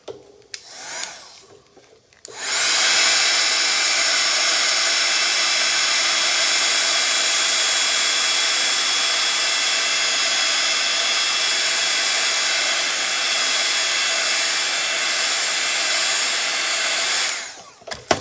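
A hair dryer blows steadily at close range for about fifteen seconds, drying freshly applied colour, a loud continuous whoosh with a high whine, switching on and off cleanly with no talk.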